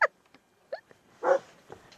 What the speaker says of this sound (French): Qu'est-ce que t'as? Tu causes? Il a envie de jouer avec l'autre chien